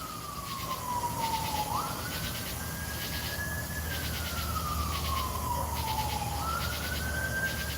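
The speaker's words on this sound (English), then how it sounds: "We're just listening to sirens going by, hoping that it's not for me." Emergency vehicle sirens going by on a hot Oklahoma night, a wailing tone sweeping slowly up and down over a constant low background rumble, fairly loud and continuous.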